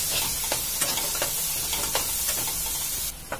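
Ginger garlic paste fries in hot oil for katvade, crackling with a steady close sizzle punctuated by regular soft stirring taps.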